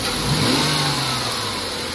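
A Jeep Wrangler engine, repaired after a cylinder injector open-circuit fault, revs hard and loud on a snap acceleration, up close with no voices.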